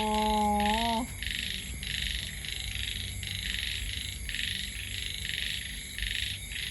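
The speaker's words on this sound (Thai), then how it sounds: "ได้ยินเสียงกบเขียด" Frogs croak in a rhythmic, pulsing chorus outdoors in nature, steady and moderately loud. A brief rising tonal sound opens the recording before the croaking carries on alone.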